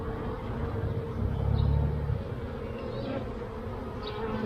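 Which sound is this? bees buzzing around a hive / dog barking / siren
bees buzzing around a hive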